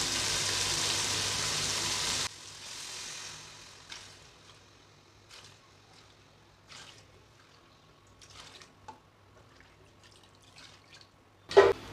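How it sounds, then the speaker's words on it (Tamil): Coconut milk poured into a cooking pot for Tamil coconut milk rice: a steady liquid pour for about two seconds, then quieter trickling and dripping, with a sharp clink near the end. "அதனால் 6 கப் அளவுக்கு தேங்காய் பால் சேர்த்துக்கிறேன்."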